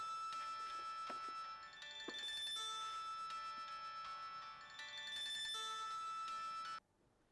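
A telephone rings with a steady electronic trill that repeats in bursts over several seconds. The ringing cuts off abruptly near the end.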